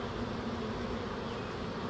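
A large honeybee swarm pours into a swarm trap hung on a backyard tree, a dense, steady buzzing drone filling the air close by with no let-up.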